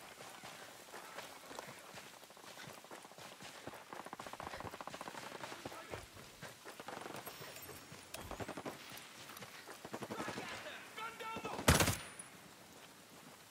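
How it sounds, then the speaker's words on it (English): Dense rapid gunfire crackles on and off in a video game, fairly faint and steady, with a sharp loud burst near the end. "That's a lot of gunfire."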